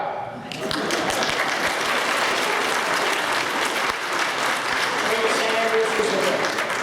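A crowd at a Bible Bowl quiz competition breaks into loud, steady applause for a second-place preteen team, dense clapping that holds strong to the end.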